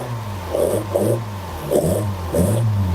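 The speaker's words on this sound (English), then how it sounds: "it's running flat because it needs choke. It actually should be on choke now." A classic car engine running after the choke is applied, a steady low idle with rhythmic surges, close and fairly loud, with no talk.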